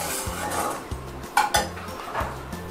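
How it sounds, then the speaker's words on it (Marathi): A puffed rice mixture roasts in a frying pan while a spoon stirs it, with repeated clinks and scrapes against the metal and a faint sizzle between them. "तर हे आपण व्यवस्थित चुरमुरेला ह्या सगळ्याच्यामध्ये आपण व्यवस्थित फ्राय पॅनमध्ये आपण भाजून घेत आहोत."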